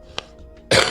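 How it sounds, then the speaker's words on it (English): A single person's cough during a coaching stream, one short harsh burst near the microphone after a faint click, loud and close. "One more cough."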